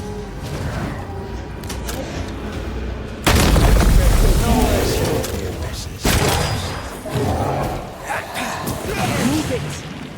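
Cannon powder explosion in the video game Banishers: Ghosts of New Eden, a sudden loud booming blast followed by a second thump and rumbling debris, with combat noise around it.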